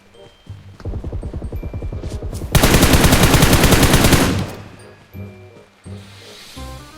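Automatic rifle fire from PUBG Mobile: a rapid, loud stuttering burst of shots, then an even denser sustained volley that cuts off, followed by scattered shorter bursts. Faint talk sits beneath it.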